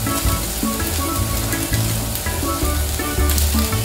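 Onions sizzling alongside beef steak on a comal, a loud, close, dense crackle that holds steady throughout like hard rain on a surface.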